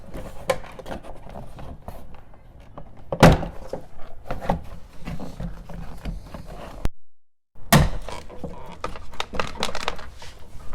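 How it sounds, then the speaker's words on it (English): Plastic clips popping loose as a Toyota Tacoma rear door panel is pried off, with scattered clicks, sharp snaps and thunks of the panel against the door, one loud crack, then a short silence and another snap. "we have a ton of clips up and around the door panel that we need to pop out"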